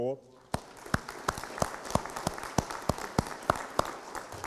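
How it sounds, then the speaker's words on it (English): A town hall audience at an Ebola briefing breaks into applause, starting abruptly after a brief voice and continuing as a steady patter of claps with regular louder single claps cutting through, moderately near. "give the folks, including Captain Moore and the team that you saw on the stage, a round of applause for their support"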